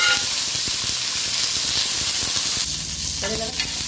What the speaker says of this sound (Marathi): हिरव्या ज्या मिरच्या होत्या त्या टाकणार आहे तेलामध्ये